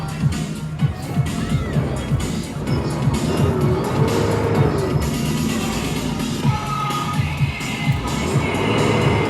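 A car engine running with a carburettor, revving and driving around a circuit in front of an audience, with crowd noise and cheering mixed in and voices at times.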